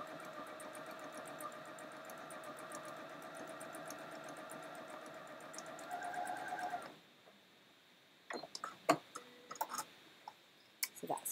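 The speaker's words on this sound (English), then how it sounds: "put the needle down, and I'm just going to sew all the way along" Sewing machine running steadily while top stitching along a fabric fold for a tea bag wallet, a continuous mid-level hum for about seven seconds, then stopping, followed by scattered clicks and handling sounds.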